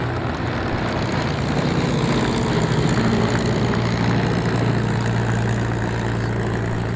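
P-51 Mustang propeller fighters taxiing back at an airshow, a steady loud engine drone with a low rumbling hum that holds evenly throughout, no talk.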